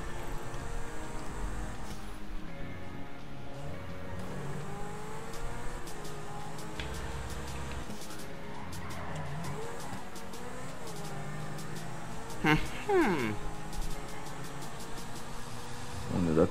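A car in GTA Online drives through a city centre, its engine droning steadily throughout with a brief sharp tire squeal near the end and a revving surge at the close.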